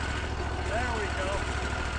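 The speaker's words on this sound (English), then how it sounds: "The mill seems to run much better with gasoline than it does without." A gasoline engine powering a sawmill runs at a steady, low idle-like drone, continuous and moderately close, while milling black cherry, with faint whistling tones over it.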